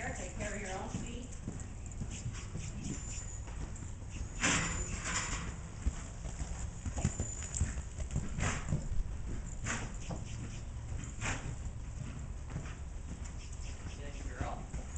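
A mare cantering on a loose rein in a riding arena, with soft, steady hoofbeats running under a rider's calm spoken encouragement throughout.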